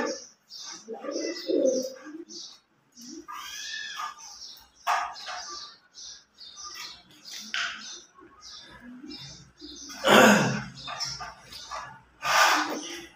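Pigeons in a loft cooing in scattered bursts, soft throaty calls at close range with brief quiet gaps, and a louder flurry of calls toward the end.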